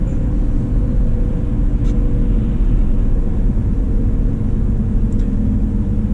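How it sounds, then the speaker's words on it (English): A 2004 Audi Allroad with the 4.2 engine lugs at cruising speed, giving a continuous deep, low rumble with steady road drone inside the cabin and no voices. "you see how much this lugs the engine"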